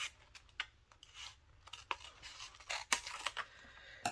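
Scissors snip through painted paper to cut out a number zero for a Christmas countdown craft, giving a run of close, crisp cuts and crinkles at an irregular rhythm with no talk.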